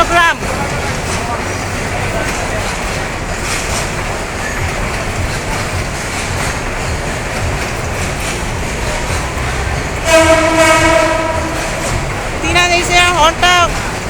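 A container freight train from Dhaka to Chittagong rumbles steadily past at close range, and a locomotive horn sounds loudly in two blasts near the end while people talk over it.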